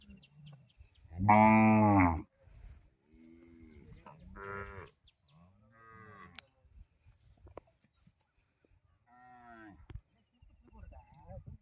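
An Umbalachery jallikattu bull gives a loud, drawn-out moo, followed by softer lowing calls and brief bird chirps, while people talk nearby at a cattle pen.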